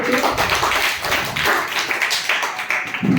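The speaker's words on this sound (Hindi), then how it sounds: "ताली बजाइए इनके लिए" Classroom students clapping for a classmate who answered correctly, a short burst of steady, close, busy hand claps filling the room.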